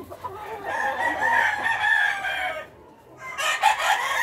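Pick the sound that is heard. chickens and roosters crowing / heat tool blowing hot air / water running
chickens and roosters crowing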